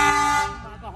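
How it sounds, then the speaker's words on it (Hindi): A single loud vehicle horn blast, held briefly and then fading, close by with a little background noise. "हॉर्न सच में बजा रहा हूँ।"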